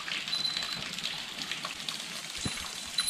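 Water trickles and drips from rocks near a mountain cave on a pilgrimage trail, a soft continuous patter and splashing with one slightly louder drop near the end.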